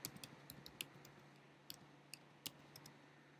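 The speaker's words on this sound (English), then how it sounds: "Next, you will type in your password." A password typed on a computer keyboard: faint, sparse key clicks at an irregular pace over a quiet low hum, close and soft, with no talking.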